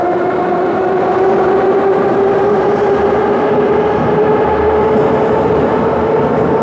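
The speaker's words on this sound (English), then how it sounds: "Of course, this is a subway train, but it looks like real Red Arrow." A Moscow subway train runs steadily throughout, with a continuous rumbling roar and a sustained tonal whine from the motors, loud and close.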